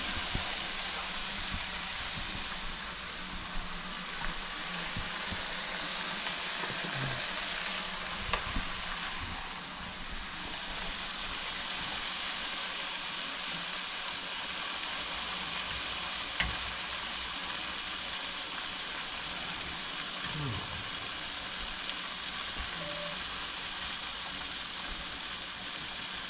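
Razor clams frying in a pan give a steady, dense sizzle that holds evenly from start to finish, close and moderately loud, with faint clinks and shifts now and then and no talking.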